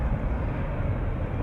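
Departing airliners at Schiphol Airport leave a broad, steady, distant engine roar lingering after they pass overhead, an even wash of sound with no speech.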